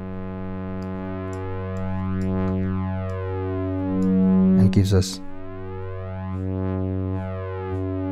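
Steady droning synthesizer tone with a rich, buzzy harmonic stack from Slime Child Audio Substation in VCV Rack, its filter output fed back in a loop, briefly interrupted by a short spoken phrase, then continuing unchanged.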